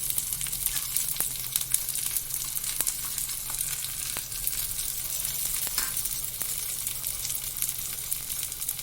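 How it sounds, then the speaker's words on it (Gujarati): Finely chopped garlic sautés in hot oil with a steady, close sizzle and light crackle throughout, alone with no talk, while aloo bites are being made. "તેલ થઈ ગયું છે એટલે આ ઝીણા સમારેલા લસણ આપણે થોડા સાંતળી લેશું."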